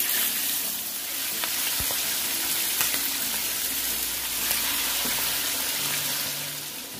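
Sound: mondongo (tripe) frying and sizzling in a pan

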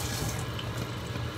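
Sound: rinsing a bowl under running tap water

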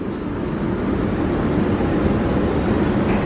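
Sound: train

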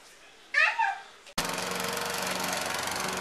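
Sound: lawn mower mowing the lawn

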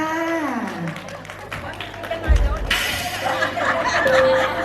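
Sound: applause from wedding guests

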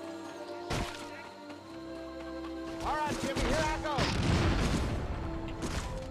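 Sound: tank firing a rocket in Medal of Honor Frontline video game

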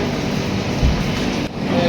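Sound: train standing at railway station

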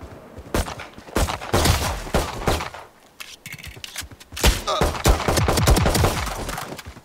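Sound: rifle gunfire at bots in the video game Valorant

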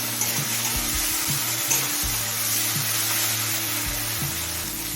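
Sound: tomatoes sautéing in a pan for egg chicken tadka

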